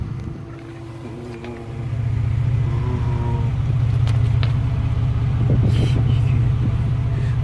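A 2000 Galloper nine-seater running on LPG idles steadily, heard from outside at the rear of the vehicle; a continuous low engine rumble swells after the first couple of seconds and then holds at a constant level with no voices.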